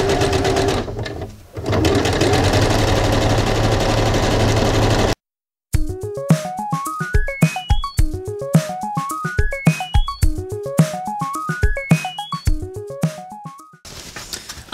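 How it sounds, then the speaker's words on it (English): A sewing machine runs a zigzag stitch along a pillow in quick rhythmic bursts of needle strokes. It is loud and close, with a steady whirring section before a short pause and no talking. "I'm going to use a zigzag stitch for this, just so it's a little bit more secure. And I'm just going to sew all the way along."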